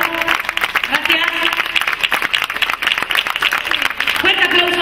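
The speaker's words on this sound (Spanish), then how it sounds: "Yo voy a pedir otro aplauso fuerte para nuestra rondalla" Strong applause for a rondalla string band at a local event, with steady clapping throughout alongside music and voices in the background.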